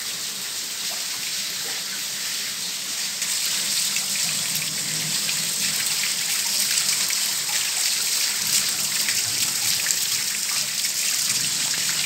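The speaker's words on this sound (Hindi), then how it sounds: "पूरा पानी बह करके पूरा घर में, डाइनिंग हॉल में, पूरे घर में लग रहा है" Continuous rushing and trickling rainwater flowing through the rooms of a house, steady and fairly loud, with a constant wash of flow and no talking.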